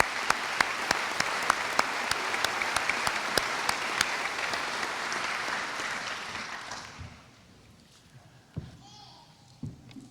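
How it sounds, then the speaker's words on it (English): Graduation ceremony crowd at a high school applauds for two distinguished alumni, dense sustained clapping with a few sharp claps that fades out after about seven seconds into quiet room noise and small knocks. "I'd like to give a big round of applause for Todd and Ryan"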